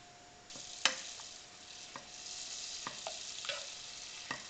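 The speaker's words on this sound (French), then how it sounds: "je mets 2 verres de farine et un verre d'eau avec une pincée de sel et je remue avec une spatule" A spatula stirs melted butter, flour and water in a pan, making quiet scraping strokes and soft clicks against the pan, with a faint sizzle in a near-silent kitchen.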